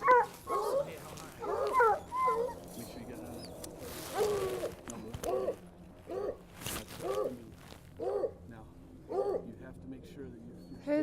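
A dog on a rifle hunting outing gives a series of short barks, yips and whimpers at a steady pace, fairly close, with people talking quietly in between.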